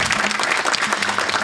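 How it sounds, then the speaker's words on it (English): A short stretch of applause from an audience at an in-person event marking the end of an online broadcast, with dense, fairly loud clapping and a faint low hum underneath. "Thanks to Mats Vara for making it possible, and big applause to Mats."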